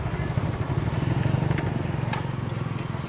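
Motorcycle engine running while riding on a sunny day in Malabon City, a steady close pulsing drone throughout with a few faint background knocks.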